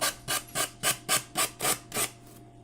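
Sanding by hand: eight rhythmic, evenly spaced rasping strokes of sandpaper on a workpiece, close and crisp, each stroke a short scratchy burst separated by brief pauses.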